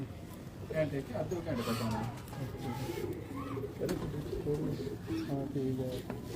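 Many pigeons coo together in a loft in Lahore, Pakistan, a close, continuous chorus of low, throaty calls overlapping one another.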